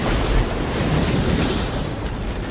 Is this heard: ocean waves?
yes